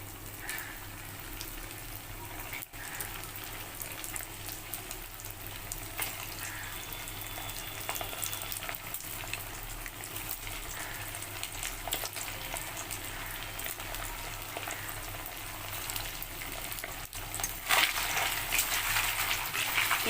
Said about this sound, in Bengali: আমি ছাড়তে থাকলাম পানিরগুলোকে হালকা করে একটু গোল্ডেনভাবে ফ্রাই করে নেবো